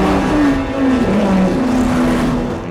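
A loud red Ferrari race car engine roars steadily, its pitch shifting up and down as it revs and accelerates, close and continuous throughout.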